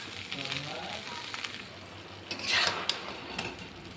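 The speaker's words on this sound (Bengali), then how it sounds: "এবার চাউলটাকে আমি ভালো করে ভেজে নেব।" Salted, turmeric-coated rice frying in oil in a pan with whole garam masala and bay leaves for basanti pulao, a soft sizzle with scraping stirs and a louder hiss surge midway, close by.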